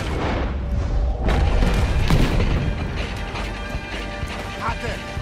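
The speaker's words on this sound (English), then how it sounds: "He's shooting!" Gunfire and cannon blasts from a battle in Red Dead Redemption 2 on Guarma: loud booms and crashes, with a heavy burst around the middle, set against a dense wash of combat noise while voices shout over it.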